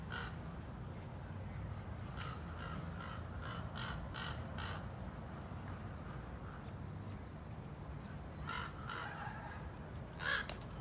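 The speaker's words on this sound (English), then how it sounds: "And the Raven is screaming it. Listen to them." A raven caws repeatedly outdoors, a string of harsh, grating calls at moderate distance, quiet overall, with a few creaky notes near the end.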